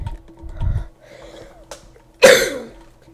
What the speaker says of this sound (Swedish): Åh gud, jag måste hosta.